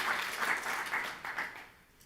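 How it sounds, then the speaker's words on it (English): Audience applause at a university science talk, a brief burst of steady clapping from a crowd that fades out within about two seconds. "Let's give them a round of applause."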